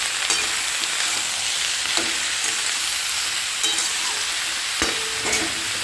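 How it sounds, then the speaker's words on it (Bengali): Onion greens fry in a pan with salt and turmeric, giving a continuous close sizzle broken by several sharp spatula taps and scrapes as they are stirred, with no voices. "তোমরা ভালো করে একটুখানি ভেজে নেবে তারপর এর মধ্যে দিয়ে দেবে নুন আর হলুদ"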